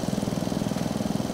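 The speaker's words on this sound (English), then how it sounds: "This morning we're starting off just mowing our lawn in the first house that we put up." A lawn mower in the Farming Simulator video game cuts grass around a house, its engine a steady, close, loud drone with a rapid knocking pulse and no other sounds over it.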